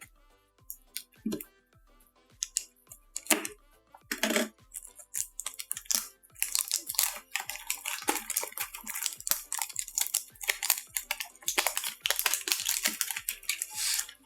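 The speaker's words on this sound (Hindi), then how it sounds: "रैपिंग उतारते हैं सबसे पहले" Plastic wrapping is peeled and crinkled off a Samsung Galaxy A01 box, giving a close, irregular series of sharp crackles, taps and rustles that grow busier and denser toward the end, with no talk.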